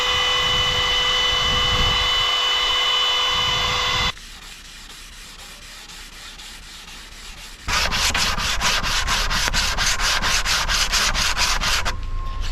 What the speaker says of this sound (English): I've just been using some sandpaper on a sanding block just to get these edges nice and square